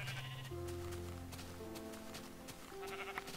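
Sheep in the video game Minecraft bleat several times in a row, with clear, close, moderately loud baas and a bit of background noise, with no talking.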